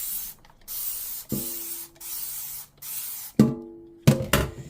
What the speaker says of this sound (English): So we're going to spray it again and leave it a bit longer.